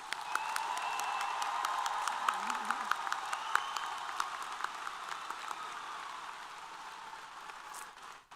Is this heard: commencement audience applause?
yes